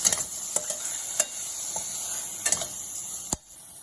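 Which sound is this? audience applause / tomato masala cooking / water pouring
tomato masala cooking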